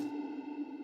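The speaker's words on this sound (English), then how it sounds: "a triangle wave" A synth pluck built from a triangle wave and processed with chorus, echo and distortion effects, a sustained bright tone with a steady pitch and a shimmering tail, heard alone.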